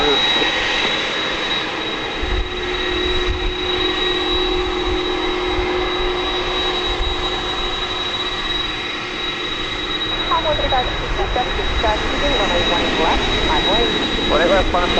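Jet airliner taking off from runway 18 left at DFW Airport at night, a steady loud engine roar filling the whole stretch with a continuous broadband rumble, birds chirping faintly in the latter part.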